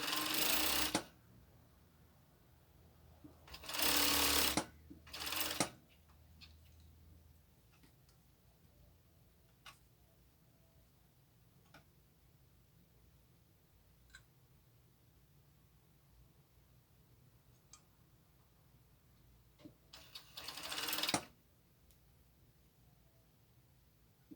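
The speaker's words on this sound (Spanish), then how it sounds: "Y terminamos cosiendo lo que viene siendo la línea" A sewing machine stitches a crop top in three short, loud bursts separated by long quiet stretches of faint ticking.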